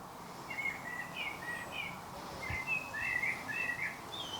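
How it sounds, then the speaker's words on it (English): Several small birds chirp and tweet outdoors during a yoga session, their short high calls scattered in bursts over steady background noise, moderately distant and continuing throughout. "These birds are having a conversation like, what is this crazy lady doing here?"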